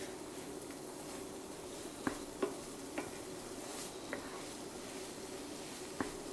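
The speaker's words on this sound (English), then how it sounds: "So once you do that, you give it a good mix." A spiced fish filling for a Moroccan pastilla is gently stirred by hand in a bowl. Soft, continuous scraping and a few sharp clicks come close up against quiet room noise, with no talking.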